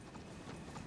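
Faint, brief hoofbeats of an armoured horse from the video game Elden Ring, a soft clip-clop over a muffled ambient bed.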